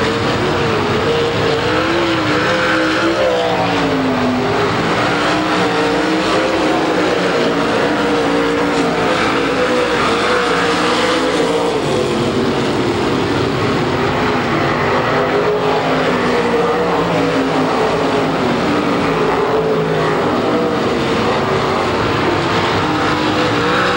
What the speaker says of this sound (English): he is passing some of the finest sprint car drivers in the country right now